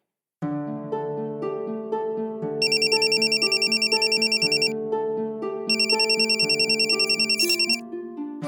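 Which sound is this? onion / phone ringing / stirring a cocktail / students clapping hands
phone ringing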